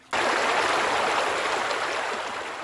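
Water from the Erfeng Canal in Taiwan, an irrigation channel from the Japanese colonial period, rushes steadily and loudly after a sudden start, a close, broad, continuous flow with no talk.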